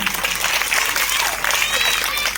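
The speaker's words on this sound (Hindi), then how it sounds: "जोरदार तालियां बजा दीजिए।" A crowd of village women at a Teej celebration claps loudly, a continuous bright rush of applause that stays even and strong for the whole moment.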